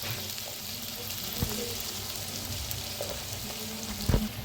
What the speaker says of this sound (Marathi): खूप छान असं भाजून घेते. मस्त असं भाजलेलं आहे.